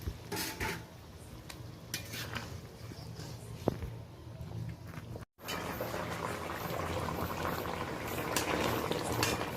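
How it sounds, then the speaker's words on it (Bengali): Fish curry bubbles steadily in a pan, a soft continuous boil broken by a few clinks of utensils, a brief cutoff midway, then a fuller, louder simmer as pieces of fish go in. "তরকারিটা বেশ ভালোভাবে ফুটে গেছে। এই পর্যায়ে আমি মাছগুলো দিয়ে দিলাম।"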